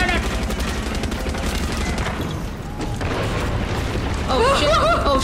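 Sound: gunfire in Far Cry 6 video game

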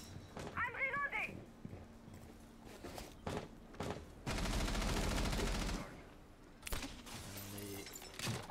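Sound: gunfire in the video game Rainbow Six Siege

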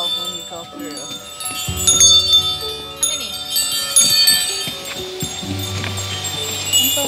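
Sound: bell rung when walking through at an abbey

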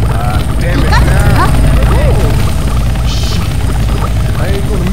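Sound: helicopter flying in the video game Left 4 Dead 2

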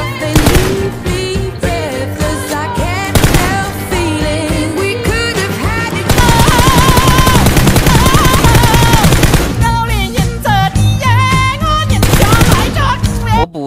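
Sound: gunfire in the video game PUBG Mobile

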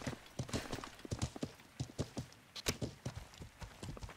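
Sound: horse hooves galloping in a video game

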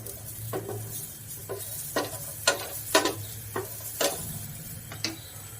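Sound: chickpeas roasting with chili flakes in a pan

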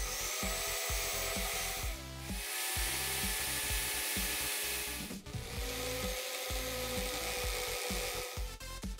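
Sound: sanding wood spinning in a drill

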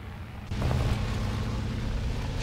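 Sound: vehicle engine starting up in a video game

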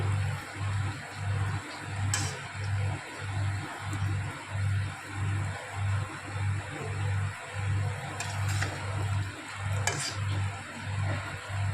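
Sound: palm fruit fritters frying in oil

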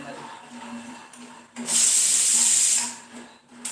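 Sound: food boiling with steam hissing

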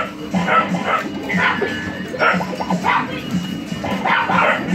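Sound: dogs barking

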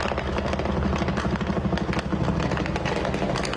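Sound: police helicopter overhead

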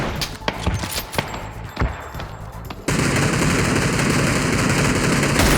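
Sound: gunfire from PUBG video game

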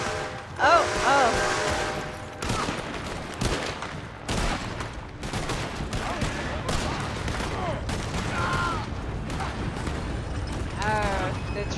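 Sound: gunfire shootout in video game

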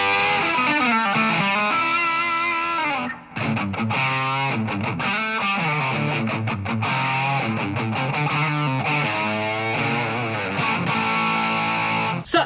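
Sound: electric guitar through distortion pedal at reduced gain

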